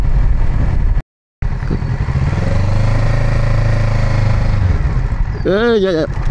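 A Kawasaki Z650 motorcycle engine runs while riding, a steady close rumble mixed with wind roar that cuts out briefly near the start, with a rising, wavering whistle toward the end.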